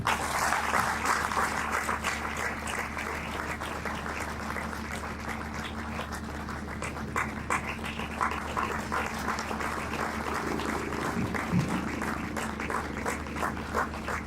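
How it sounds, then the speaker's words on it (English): An audience at a mentoring event claps steadily for a speaker, a dense, sustained wash of applause that holds at an even level throughout, heard from within the room. "Keep clapping."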